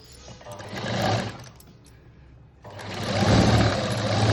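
Sewing machine stitching a blouse sleeve, two runs of rapid mechanical whirring and clatter close by, a short burst, a brief pause, then a longer, louder stretch.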